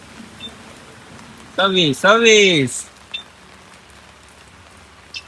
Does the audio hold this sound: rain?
yes